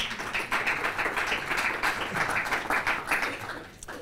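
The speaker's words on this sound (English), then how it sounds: "Why don't you give yourselves a round of applause for that?" An audience at a business leaders' event gives a round of applause, many hands clapping in a dense, steady patter that holds for several seconds before easing slightly at the end.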